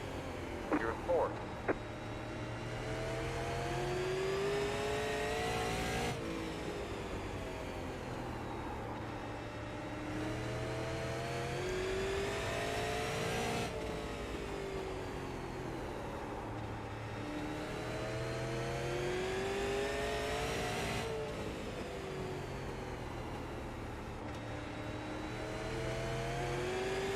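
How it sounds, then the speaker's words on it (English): Outlaw sprint car engines race in the NARC game, a loud sustained roar that rises and falls in long revving sweeps of roughly seven seconds each, while a spotter talks over the top throughout. "I'm overdriving the car."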